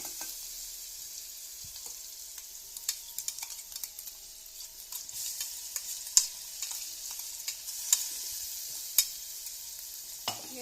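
A ground green chili and garlic paste goes into a pan where turmeric and tempering already crackle, with scattered sharp sizzling pops and spoon scrapes as it is stirred, the frying fairly quiet and close throughout.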